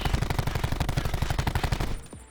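A Maddox rifle in Black Ops 4 fires a sustained full-auto burst, about twenty evenly spaced close, loud shots that stop abruptly and leave a short fading tail.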